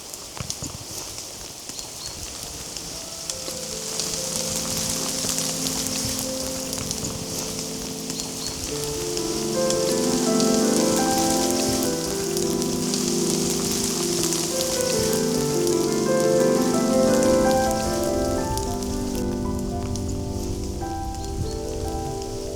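Rain patters on a forest camp shelter beneath an old oak tree, a close, dense drumming of drops with scattered heavier plinks and drips that intensify midway, steady and without talk.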